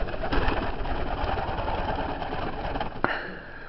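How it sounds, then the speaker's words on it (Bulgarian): White Chinese owl pigeons in a breeding loft give low cooing over a dense, rumbling background hum, with a short sharp knock near the end. "3 двойки бели гълъби"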